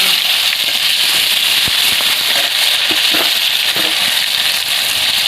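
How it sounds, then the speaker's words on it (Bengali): Dried red chillies spit and crackle in hot oil in a pan with a little nigella seed, a steady loud sizzle dotted with sharp pops throughout, no talking. "তেল গরম হয়ে গেছে, দেবো দুটো শুকনো লঙ্কা"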